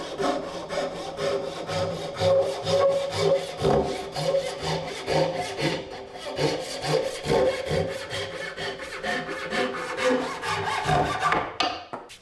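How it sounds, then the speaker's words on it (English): A handsaw trims the wooden legs of a Shaker bench to final length with steady, rhythmic back-and-forth strokes, loud and close, with no talking. "it's time to trim the legs to their final length"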